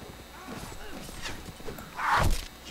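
Horse hooves clip-clop briefly in the medieval combat game Mount and Blade: Warband, a short thudding burst near the end amid battle noise, with a voice talking over it.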